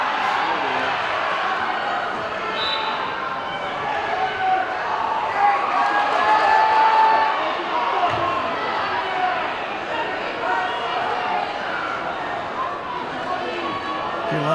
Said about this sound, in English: Hear a lot of cheering in the background.